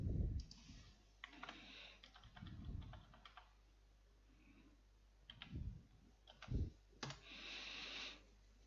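Someone types a password on a computer keyboard in short bursts of quiet clicking keystrokes, separated by pauses over a low steady hum.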